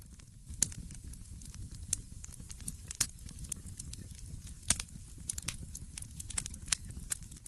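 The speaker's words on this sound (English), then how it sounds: "You listen to the fires, music a slow symphony of crackles, pops, and the whisper of burning wood." A wood fire burns in a stove, giving scattered sharp pops and soft crackles over a low steady rumble, fairly faint and close, with no voices.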